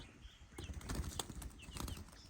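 Country chickens on a small farm flap their wings in a few quick, close bursts of feathery fluttering, with faint chirps in the background.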